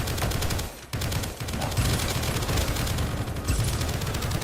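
Turrets in the indie shooter Project Onyx fire a dense, continuous stream of rapid gunshots that stays loud throughout, with only a brief dip and no speech.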